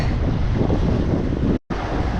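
Heavy wind buffets the microphone on a boat during white bass crankbait fishing near Fort Worth, a loud steady roar with a brief cut-out near the end and no talk.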